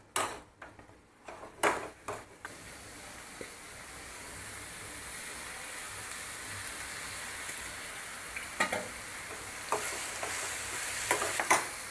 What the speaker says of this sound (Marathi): पुन्हा आपण परतून घ्यायचं चांगलं तेल सुटेपर्यंत ह्याला